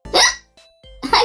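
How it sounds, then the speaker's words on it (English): A voice makes two loud, close hiccup sounds separated by a short pause, with a faint tone between them, in a word puzzle game. "I've got the hiccups!"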